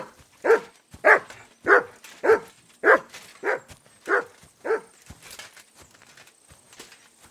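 Mutt, a dog in Kingdom Come: Deliverance II, barks in a steady series of about nine sharp, close barks spaced roughly half a second apart, with faint whimpering between and a soft clatter behind.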